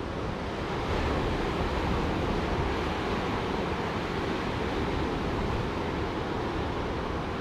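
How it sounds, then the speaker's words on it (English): Small ocean waves break and close out along an Australian beach, giving a steady, loud wash of surf with wind noise throughout and no talk. "There are a couple of little waves coming through over here, but just closing out really."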